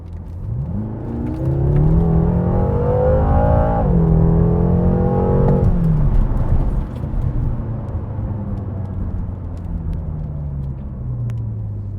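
A BMW M6 engine revs up through rising gears, the pitch climbing and dropping with each shift, then settles into a steady lower drone as the car cruises.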